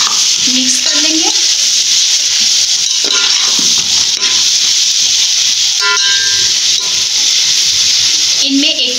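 Mixed vegetables, including long-cut potato strips, stirred and fried in a pan for pulao, giving a steady close sizzling hiss with occasional scraping stirs and brief clinks throughout.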